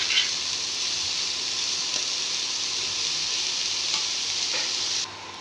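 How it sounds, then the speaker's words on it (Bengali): Leafy greens fry in a hot pan and get stirred, a dense, steady sizzle close by with faint occasional utensil scrapes, easing slightly at the end, with no one talking. "বেশিক্ষণ নাড়াচাড়া করলে টক হয়ে যাবে, তাই 5 মিনিট ভালো করে ভেজে নেব।"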